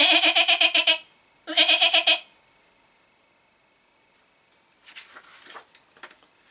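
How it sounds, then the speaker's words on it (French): A small young goat bleats twice in close, loud, wavering bursts, each about a second long, followed after a pause by quieter rustling and shuffling. "Ah, qu'elle était jolie, la petite chèvre de Monsieur Seguin."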